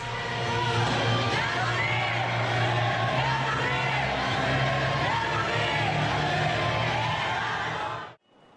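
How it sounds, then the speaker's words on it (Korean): Crowd cheering and applauding at a March 1st Movement centennial flash mob in Seoul, a loud continuous wall of whoops, shouts and clapping that cuts off abruptly near the end. "환호와 박수로 그날을 기억해봅니다"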